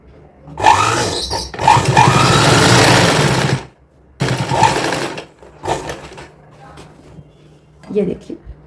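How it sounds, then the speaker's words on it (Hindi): A sewing machine runs along the folded edge of a hook strip for a child's designer outfit in short, close bursts, while a voice talks alongside. "उसके बाद इसी पर हम ऐसे सेट करके और सिलाई लगा देंगे ये"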